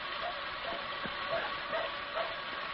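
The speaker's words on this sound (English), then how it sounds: "It's a little dog barking." A little dog barks in a radio drama, repeated small yaps spaced through a steady background hiss, faint and distant-sounding.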